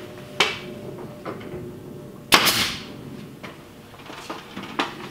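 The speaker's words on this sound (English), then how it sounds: "Just put one staple in the middle, one on the ends to hold everything." Two or three sharp, loud snaps of a staple gun driving staples to hold a wrap in place, close and spaced a second or two apart, with quieter handling sounds between.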